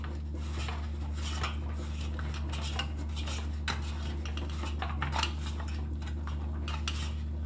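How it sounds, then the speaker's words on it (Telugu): Pizza dough flour being mixed by hand in a bowl, with steady scraping and clinking of the bowl and utensils over a constant low hum, close and moderately loud throughout. "ఈ పిండిలు ఎప్పుడైనా సరే మనం చేత్తో కలిపితేనే బాగా కలుస్తాయండి."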